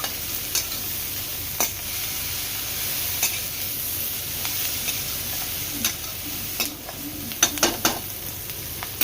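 Masala with lemon juice sizzles in a pan on a low gas flame and is stirred in a home kitchen, giving a continuous bright hiss with scattered spoon scrapes that pick up toward the end.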